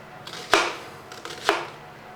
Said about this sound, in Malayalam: സവോളയും കൂടെ ഇങ്ങോട്ട് അരിഞ്ഞെടുക്കാം